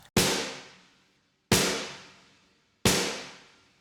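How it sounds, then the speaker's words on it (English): Three loud, evenly spaced snare hits, each with a sharp crack followed by a wide, smoothly decaying reverb tail. "The last element we need is the rooms and reverbs."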